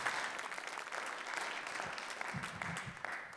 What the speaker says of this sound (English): Round of applause for our sponsors once more.